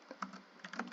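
Typing on a computer keyboard, a handful of quick, light key taps in an uneven rhythm, close but faint and without talk.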